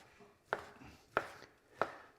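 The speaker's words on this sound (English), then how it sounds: "So we just chop it up." Knife chopping warm cooked chicken breast with garlic on a board, three sharp, evenly spaced thuds about two-thirds of a second apart, close and clear with a quiet background.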